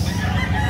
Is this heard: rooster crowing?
yes